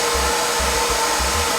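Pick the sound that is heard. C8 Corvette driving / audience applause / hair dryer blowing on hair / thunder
hair dryer blowing on hair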